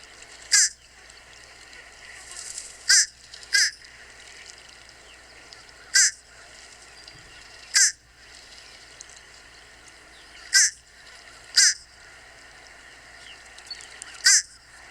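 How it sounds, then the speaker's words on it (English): A fish crow calls again and again over a low steady outdoor background, giving short nasal caws at uneven intervals, some singly and some in quick pairs, moderately close and clear. "so here is the sound of a fish crow."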